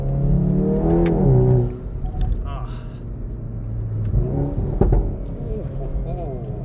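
A tuned Stage 2+ Hyundai i30N, making 333 hp and 480 Nm, revs its exhaust under acceleration with a rising engine note that drops off, then climbs again. Someone talks over the engine noise.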